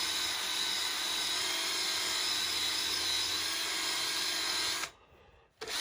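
A power drill hums steadily at fast speed, around 1200 to 1500 RPM, while working on a Chevy truck gauge cluster, loud and constant before cutting off near the end.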